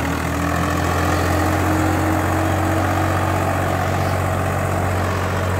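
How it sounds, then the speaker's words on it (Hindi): A diesel tractor engine runs at a steady, loud idle during a diesel-economy contest, a constant low rumble with mechanical clatter throughout. "50 पे चल पड़ा भाई ट्रैक्टर"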